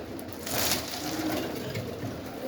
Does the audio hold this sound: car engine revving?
no